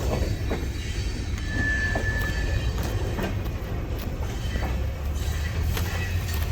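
A Kiamichi Railroad train rolls past nearby at Hayworth, Oklahoma, with a steady low rumble of cars, rhythmic wheel clicks and a brief squeal, close and continuous with no talk.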